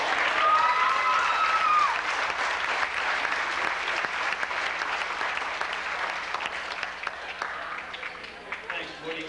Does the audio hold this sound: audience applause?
yes